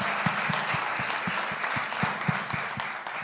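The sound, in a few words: audience applause at a summit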